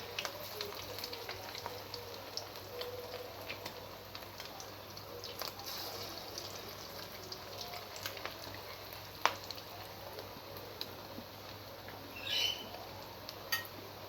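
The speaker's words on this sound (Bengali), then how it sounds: "মিডিয়াম আঁচে এটাকে ভাজতে হবে" Fritters of grated bottle gourd and fish roe frying in oil over medium heat, giving a steady, moderate sizzle with faint crackles and a few sharper pops, no talking.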